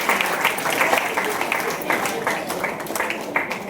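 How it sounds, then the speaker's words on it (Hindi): An audience claps for young girls at a gathering, a sustained patter of many hands at moderate loudness, with a voice speaking faintly underneath. "एक बार जोर से ताली बजाएं छोटी कुमारियों के लिए, कन्याओं के लिए।"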